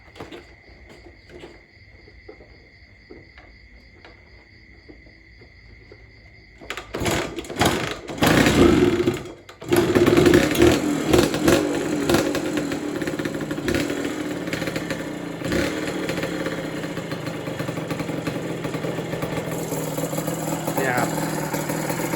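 A tall motorcycle fitted with a choke starts and settles into a steady, loud idle nearby after a quiet stretch of insects chirping, the engine running on continuously with someone talking at times.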